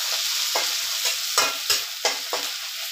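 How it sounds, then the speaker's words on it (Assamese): Sliced onion and green chillies fry in a pan at close range, a continuous sizzle broken by about six sharp spatula stirs scraping the pan. "প্ৰথমতে দিলোঁ পিঁয়াজ জলকীয়া ধুনীয়াকৈ দি পেলাই এতিয়া মই ফ্ৰাই কৰি লওঁ অকণমান"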